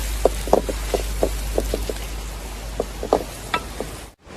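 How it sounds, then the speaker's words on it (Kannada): Onions fry in a pan for a Malnad-style snake fish curry, giving a low sizzle broken by a string of sharp, irregular spatula taps and scrapes, close by, before the sound cuts off abruptly near the end. "ಈರುಳ್ಳಿ ಬ್ರೌನ್ ಕಲರ್ ಆಗೋವರೆಗೂ ಫ್ರೈ ಮಾಡ್ಕೋಬೇಕಾಯ್ತಾ."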